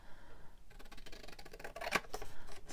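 Scissors snipping through a paper star cutout made of midnight blue paper for Christmas junk journal ephemera, with a soft close crisp cutting sound rising to a sharper snip near the end.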